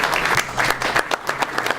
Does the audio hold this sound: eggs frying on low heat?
no